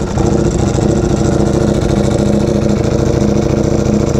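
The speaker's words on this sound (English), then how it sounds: "let's start her up and see how she sounds" Ducati Panigale V4R engine idles close by after a new dry clutch is fitted, a loud, even, rumbling throb with the dry clutch's rattle. It holds steady throughout with no voices.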